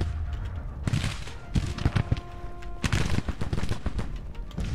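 Civil War troops firing rifle volleys across a riverbank in Grand Tactician, a dense crackle of overlapping shots in ragged bursts with booming thuds, fairly close and loud, no talking.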